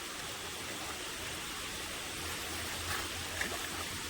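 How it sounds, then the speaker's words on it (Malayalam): A small rain-fed stream flows through a natural setting, giving a steady, soft wash of running water close by with no voices. "ഇത് മഴ പെയ്ത് ഈ തോട്ടിലെ വെള്ളം കിടക്കുന്നതാന്ന് തോന്നുന്നു"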